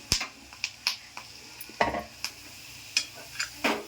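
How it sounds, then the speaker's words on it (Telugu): Raw peanuts roasting in a pan with the stove just turned off, giving scattered sharp crackles and pops at an irregular rhythm, close and fairly quiet, with no voices. "వేగిపోయి పట్టక పట్టకలాడుతున్నాయి కదా"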